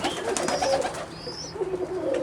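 Russian Statnyje pigeons nesting among rhododendrons and azaleas give soft, low, rolling coos close by, one cooing phrase overlapping another against a faint outdoor background.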